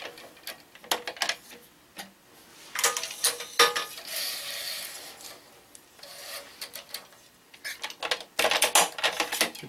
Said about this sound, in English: I can tension the top cross on the racket